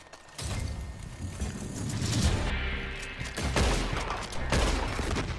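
Gunfire in Red Dead Redemption 2: bursts of loud shots and crackling volleys over a rumbling background, swelling and fading in clusters across several seconds.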